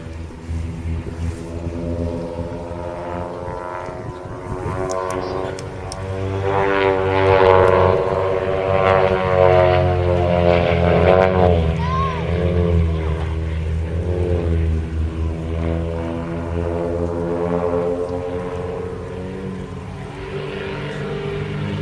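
A Wildcat Aerobatics propeller plane performs its aerobatic display at the East Kirkby airshow, its engine droning loudly and continuously, pitch rising and falling as it climbs and dives overhead, with no talking.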